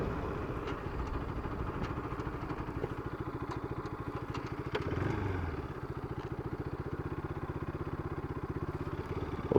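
A Bajaj Pulsar RS200 motorcycle on a morning road ride. Its engine holds a steady, close drone throughout, with a slight swell midway and no talking.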